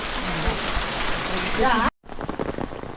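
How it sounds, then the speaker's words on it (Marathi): Steady, dense rain pours down outdoors in a Konkan village, a close hiss of drops on surfaces that cuts out abruptly and returns quieter, with faint voices underneath. "पाऊस आला आणि रिक्षा पकडायची आहे"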